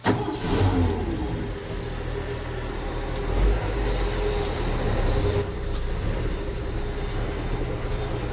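A 1967 Ford F-100 service truck engine idling cold in a shop, a steady loud low rumble with a brief surge partway through, continuous and close with no talk.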